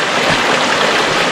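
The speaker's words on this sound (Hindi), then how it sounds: "पानी का चश्मा" Mountain spring water flowing in Bayais, Hunza, a steady broadband rush that is loud and close, running continuously without pause.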